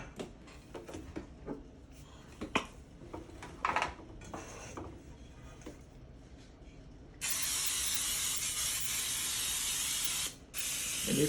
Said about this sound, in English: it kind of smell like cake batter when you spray it into the pan